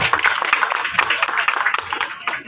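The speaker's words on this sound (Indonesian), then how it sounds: "Kita beri aplaus buat Bapak Ibu sekalian." An audience applauding at a public election-information meeting in Jakarta, a burst of scattered clapping from a room of people, fairly close, with speech mixed in.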